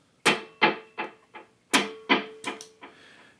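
Electric guitar run through a dotted eighth delay with a heavy mix: two sharp plucked notes, each followed by a series of fading rhythmic echo repeats, clean and close.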